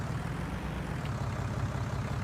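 Steady low engine drone of a tractor in Farming Simulator 19, constant and moderately loud throughout with no voices, a dense rumbling hum that never lets up.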